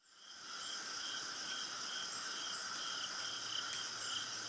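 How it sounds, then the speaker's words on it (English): Crickets chirp steadily in a continuous, shrill, pulsing chorus at moderate level with no other sounds, used as a comic silence effect. "Crickets. Love it."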